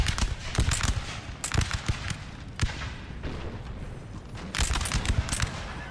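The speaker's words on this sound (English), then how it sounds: "They're going to fire on you." Musket volley fire in the Napoleonic battle game Napoleon Total War: scattered cracks and bursts of shots, some close and sharp, others softer and overlapping, spread irregularly across a rumbling battlefield background.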